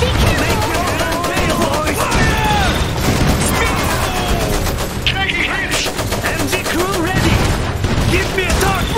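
Constant rattling machine-gun and rifle fire fills a battle in the Iron Harvest strategy game, loud and unbroken throughout, with shouted voices and other game effects layered over it.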